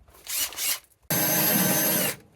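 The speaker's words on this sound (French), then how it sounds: "On perce." A power drill bores into an off-road trailer, with a short burst and then a longer steady whine of about a second, loud and close, alone without talk.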